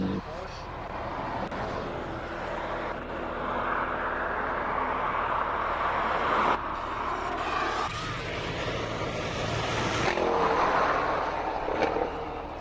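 A Porsche race car driving up the Simola hillclimb course roars continuously for several seconds, rising and falling with gear changes. A commentator talks over the engine throughout.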